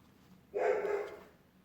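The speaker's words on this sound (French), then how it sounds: "vous devez entendre les chiens." Dogs barking indoors, a short burst of a bark lasting about half a second, moderately loud and close, standing out against a quiet room with no talk.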